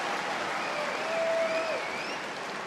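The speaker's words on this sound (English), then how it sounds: "Well, this has brought the crowd alive here, Mark. They're fired up." Fifteen thousand tennis fans applauding inside Rod Laver Arena during the Australian Open final, a dense, sustained roar of clapping that swells slightly mid-way, with faint whistles over the top.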